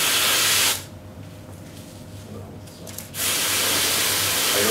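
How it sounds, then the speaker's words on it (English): Freezing cold spray jets from a can in a loud, steady hiss that cuts in and out between sustained blasts, close to the microphone, with no talk over it. "I'm going to try not to spray on you because that will be pretty cold."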